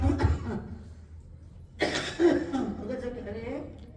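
A man coughs several times during a Vasant festival gathering at an ashram in Shastri Nagar, Delhi, with short, rough bursts close by, separated by pauses and mixed with his voice.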